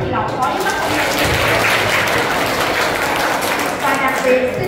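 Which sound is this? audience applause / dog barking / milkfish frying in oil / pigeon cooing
audience applause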